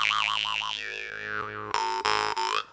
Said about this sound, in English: This is a pretty loud harp, especially for a bass.